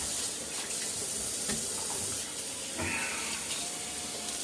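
Tap water running steadily into a sink to rinse out a shaving lather bowl, a continuous close hiss with faint splashes and clinks.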